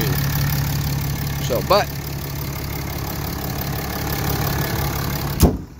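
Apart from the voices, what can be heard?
2017 RAM 3500 Cummins diesel engine idling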